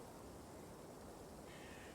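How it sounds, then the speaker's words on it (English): Bird call from the video game Scarlet Hollow, a faint cawing sound set in a soft, steady outdoor ambience, quiet and distant with no talk. "Oh, I really like that bird sound."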